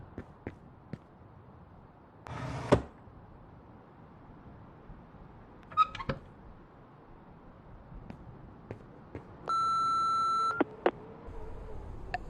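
Voicemail beep in the horror game Remothered Broken Porcelain, a single steady electronic tone lasting about a second amid quiet, sparse footsteps and soft scattered clicks.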